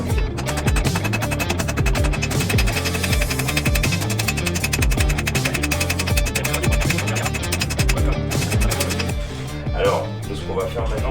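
A hammer rings in rapid, steady strikes on hot metal at a forge as a handle is shaped, loud and metallic, easing off near the end.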